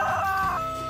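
Chickens in a backyard garden, a short burst of clucking or crowing close by, fairly clear and steady with no talking over it.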